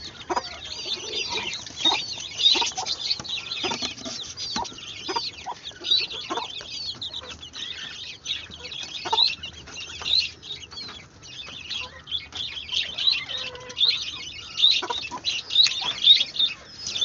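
Hens clucking and chattering in a busy flock, with frequent short calls overlapping throughout at close range.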